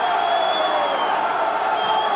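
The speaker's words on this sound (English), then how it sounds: "the buzz around the crowd here is pretty good" A football stadium crowd keeps up a steady, diffuse murmur and buzz from many distant voices, with no distinct cheers, a constant wash of noise throughout.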